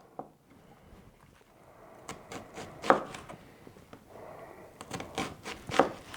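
Knife chopping onions on a board, a run of irregular crisp cuts with a few louder chops standing out, close and alone without talk.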